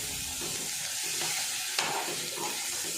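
Magur catfish curry with turmeric and salt is stirred in a pan, giving a steady close sizzle and frying hiss with soft scraping strokes and one brief clink.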